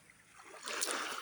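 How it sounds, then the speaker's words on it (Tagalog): Sea water laps softly on the beach at sunrise, a faint gentle wash that swells into a brighter splash near the end, with no talking. "Ang ganda ng pakinggan ng lapya ng dagat sa dalampasigan."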